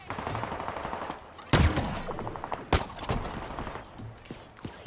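Gunfire in Halo Infinite, with two loud, sharp shots standing out over quieter rapid firing and game background noise.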